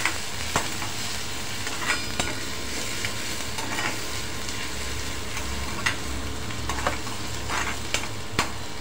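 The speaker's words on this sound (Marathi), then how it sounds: "कांदा छान असा परतून घेणार आहोत" Onion frying with cumin in a pan for a spicy farsan bhaji, a steady close sizzle with periodic scrapes and taps of the spoon as it is stirred, no talking.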